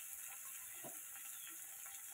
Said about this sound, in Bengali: এটা ভালো করে ভাজবো আমি। নুন দিয়ে দিচ্ছি, জল বেরোবে চিচিঙ্গে দিয়ে।